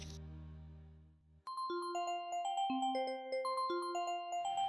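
A phone ringtone plays a bright, bell-like melody of rising and falling notes, loud and clear, after a sustained low tone fades out.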